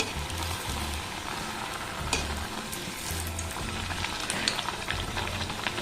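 Palm-fruit malpua frying in oil in a wok, giving a steady, dense sizzle and bubbling that runs throughout at close range, with no talking.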